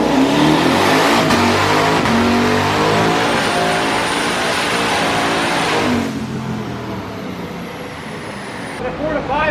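A twin-turbo Camaro ZL1 with a newly built 10-speed automatic accelerates hard, its loud engine roar climbing and dropping through several quick gear shifts, with people talking over it from inside the car.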